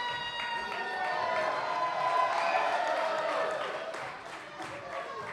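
A wrestling crowd at a WrestleARTS Unleashed show roars and cheers for the Babushka Baron, a sustained swell of many voices that peaks midway, with an excited commentator talking over it.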